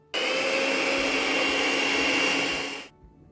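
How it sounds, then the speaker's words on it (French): An electric mixer whisks cake batter until pale for a moist cocoa-sauce cake, a steady loud whir running for nearly three seconds before cutting off. "Bien 3 minutes à fouetter."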